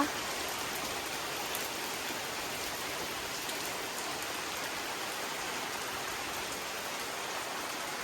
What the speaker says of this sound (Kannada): ಈ ಮಳೆ ನೋಡೋದಕ್ಕೇನೆ ಎರಡು ಕಣ್ಣು ಸಾಲದು